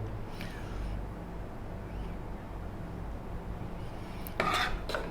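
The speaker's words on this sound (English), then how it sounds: "we're going to spoon this out over our vegetables here" A spoon scrapes and taps against a baking dish while cheese sauce is spooned over vegetables: quiet, low scraping, then a brief brighter clink of metal near the end.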